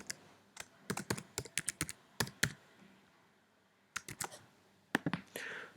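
Keys clatter on a computer keyboard as an email address and password are typed to log in to the Andromo app builder, in quick bursts of close, crisp keystrokes with a pause in the middle, no talking.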